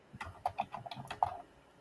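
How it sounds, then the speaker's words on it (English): Rapid typing on a computer keyboard indoors, a quick irregular burst of close, crisp key clicks with a few louder strokes, no talking over it. "Okay, Debbie, what are you typing?"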